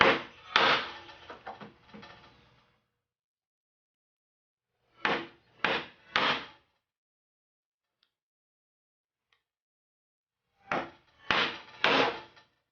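A chisel struck with a mallet chops a mortise in a block of wood: short bursts of two or three hard, woody whacks separated by long silent gaps, loud and close.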